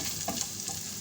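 Chopped onion sautéing on high heat in a pan, a soft steady sizzle heard fairly quietly with a couple of light stirring taps and no voices.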